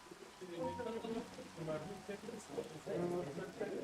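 Soft, close patter of a rain sound effect, a continuous faint hiss of drops with speech-like murmurs mixed in, quiet throughout.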